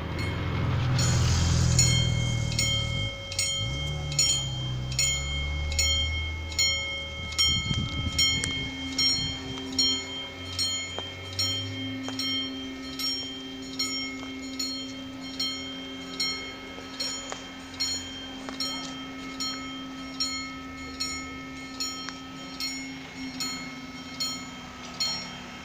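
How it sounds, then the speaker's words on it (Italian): A train rolls through the Cefalù level crossing, rumbling loudly at first, then settling into a long run of evenly spaced wheel clacks with steady rail hum as the cars pass. "Ecco il treno che aspettavo."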